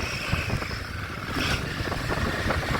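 Royal Enfield Himalayan 450 motorcycle engine running on the road, a steady droning hum with wind rush, constant and fairly close throughout.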